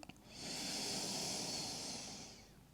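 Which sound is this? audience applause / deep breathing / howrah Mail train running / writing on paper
deep breathing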